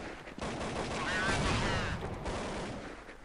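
Gunfire in Counter-Strike 1.6 rings out as a loud burst of rapid shots blending into one sustained crackling barrage for a few seconds, with no talking.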